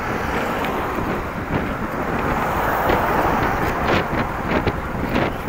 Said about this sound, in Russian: Ветер такой, вообще ужас.